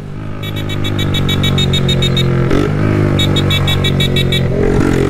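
Honda Fan 125 motorcycle with a straight pipe exhaust, a loud, close, raw engine drone held at steady revs with a brief dip, accompanied by a rattling, clicking mechanical patter.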